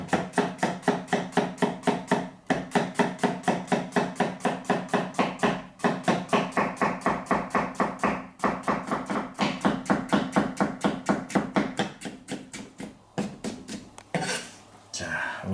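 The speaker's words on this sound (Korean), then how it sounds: "그러면 노각을 얇게 썰어주시면 됩니다." A knife thinly slices a seeded old cucumber (nogak) on a cutting board in a quick, steady run of crisp, close chops with a few brief pauses, and the strokes turn irregular near the end.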